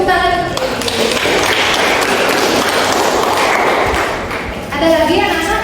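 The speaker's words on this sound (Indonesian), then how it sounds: "Tepuk tangan." Classroom applause from students during a physics lesson, a burst of clapping lasting a few seconds between stretches of talk at the start and end.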